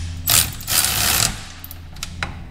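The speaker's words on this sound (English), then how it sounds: "This is where I'm using my ball joint press and just cinching them together." Ball joint press cinching Ridetech Delrin suspension bushings into a Corvette C5/C6 control arm: two short bursts of squeaking, grinding mechanical strain, close and fairly loud, followed by quieter intermittent clicks.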